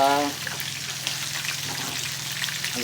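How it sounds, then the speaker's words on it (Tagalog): Onions and chicken sautéing in a frying pan for kinamatisang manok, steady close sizzling with light stirring scrapes after a brief opening tone. "haluin muna natin para bumango"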